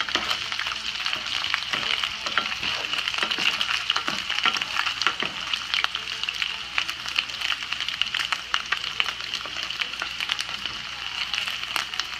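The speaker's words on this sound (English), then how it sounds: "Just keep stirring it." Carne con chile and beans stirred in a pot, a steady close sizzle and crackle of frying meat with faint scraping from the spoon running throughout.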